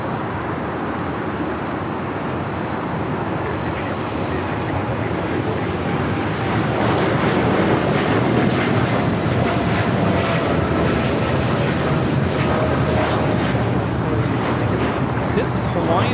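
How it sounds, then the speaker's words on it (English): Hawaiian Airlines Boeing 787-9 Dreamliner on its takeoff roll at LAX, bound for Honolulu, a steady broad jet roar that swells slightly midway and holds loud throughout, with a voice talking over it. "This is Hawaiian Airlines Flight 3 taking off to Honolulu on the 787-9 Dreamliner"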